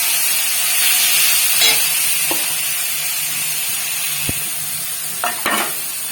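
Spices such as Kashmiri chilli and turmeric sizzle in a pan as a little water is added, giving a steady frying hiss with a few sharp clinks from stirring; no talk.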